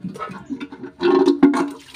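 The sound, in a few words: water poured over a burnt pan to rinse it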